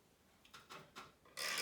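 A stick scraped over a wooden frequency stick with closely spaced slits gives a higher, buzzier rasp: a few short soft strokes, then a louder sustained scrape at the end, close up and with no voices.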